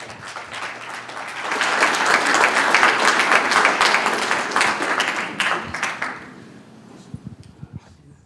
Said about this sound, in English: One more time, a round of applause for Colin as we transition